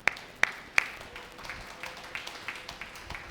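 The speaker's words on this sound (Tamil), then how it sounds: "கைத்தட்டுங்க பார்க்கலாம்" Church congregation members give three sharp, distinct hand claps, followed by scattered softer claps that trail off, fairly quiet in a reverberant hall.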